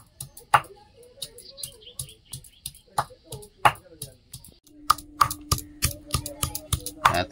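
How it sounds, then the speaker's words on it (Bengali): Ginger and garlic being pounded into paste with sharp, irregular knocks and taps, spaced unevenly and growing quicker and more insistent toward the end, with a faint steady tone under the later strikes. "আদা রসুনটা বেটে নেব।"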